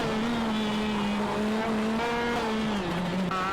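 A new shifter kart engine screams close by on a race track, holding a high, buzzing tone that climbs and dips as the kart accelerates, with no talking over it.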